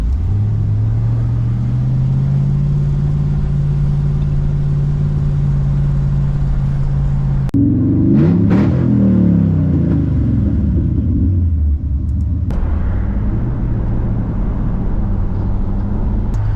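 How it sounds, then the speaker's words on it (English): A Ford Econoline camper van drives in at an outdoor car show, its engine a loud, close, steady low rumble that rises in pitch as it revs, then settles back into a deep idle-like drone. "here come Kai and Kirsten in their beautiful little camping Ford Econoline van"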